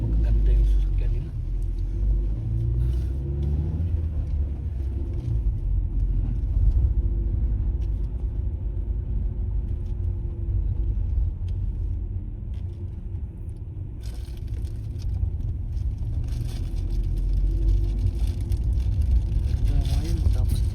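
A Land Rover Defender drives past on a hilly village road in the UK, a steady low engine rumble rising and fading close by, with people talking over it.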